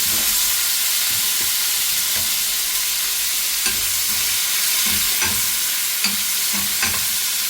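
Steady, bright sizzle of sardines frying in hot oil, with occasional soft scrapes of stirring; continuous and close, no talking.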